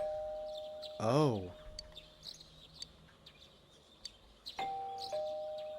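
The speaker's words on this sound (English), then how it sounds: "What was the doorbell ringing?" A two-note ding-dong doorbell chimes inside the video game Persona 4 Golden, clear and close. A shorter single tone sounds a few seconds later, and a man reacts briefly.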